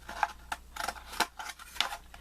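Scissors snip through a paper towel in a quiet room, a series of short, crisp cuts in an uneven rhythm, close and faint.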